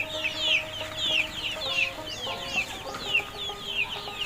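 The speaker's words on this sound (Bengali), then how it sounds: "আমার এখানে বিভিন্ন বয়সের টাইগার মুরগি আমি লালন পালন করি" Tiger chickens of various ages on a farm cluck repeatedly in short, busy bursts, several birds overlapping close by with no talking.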